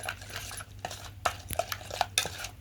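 Paneer curry mixture stirred in a pot with a metal spoon, producing a series of soft, irregular scrapes and clinks close by, with faint background hum and no talking.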